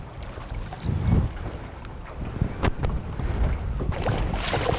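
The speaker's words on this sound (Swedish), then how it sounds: "Vi har ju liksom en ganska hård vind som trycker mot den här lilla udden där." Strong coastal wind gusting against a small point while fishing for ballan wrasse and sea trout, buffeting the microphone with rumbling gusts and irregular bursts, loud and close, with no talk.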